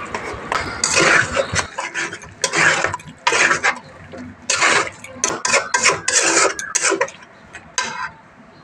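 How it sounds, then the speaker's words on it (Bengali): A spoon scrapes and stirs chicken vindaloo in a pan with a spoonful of ghee, repeated rasping bursts in an uneven rhythm with short pauses, loud and close. "এরপর শেষে আমি 1 চামচ মতন ঘি দিয়ে ভালোভাবে মিশিয়ে নিতে হবে"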